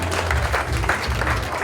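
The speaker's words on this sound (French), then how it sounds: "Merci de toujours applaudir" Applause from guests at a surprise party for a father, a dense, fairly loud and continuous clatter of hands clapping close by.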